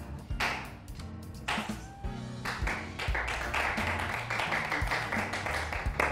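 A small group applauds the creators of a Christmas menu at a dinner meeting, with scattered, moderately quiet clapping in uneven bursts that settles into a steadier patter.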